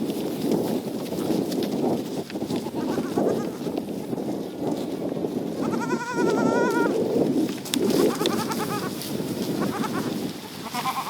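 Kiko goats out in a pen, young kids among them, give several short bleats over a busy background of shuffling hooves and farmyard movement, fairly close.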